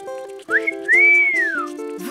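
A cartoon marmot whistles a short tune: a few clear steady notes followed by a long rising-and-falling glide, close and bright with no talking.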